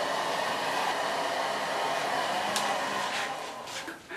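A hair dryer blows steadily at close range while freshly cut hair is being dried, a continuous loud whoosh that eases slightly near the end.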